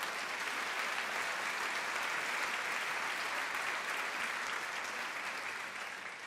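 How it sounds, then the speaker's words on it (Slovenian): Audience applause for a children's orchestra at a kindergarten music and dance show in Maribor, a dense, steady roar of clapping that holds evenly throughout and eases off slightly at the end, with no voices. "Aplavz za Cici orkester."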